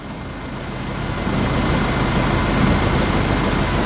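A tractor engine in the Farming Simulator video game revs while mowing a field, a steady low droning roar that swells slightly louder partway through and holds on its own, with no talk over it.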